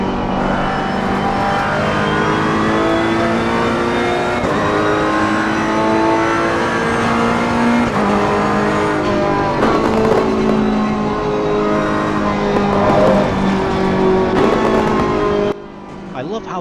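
A racing car engine in a video game revs and roars close up, heard through a HyperX Cloud 2 headset, pitch climbing and dropping through gear changes with crackles, then cutting off abruptly near the end.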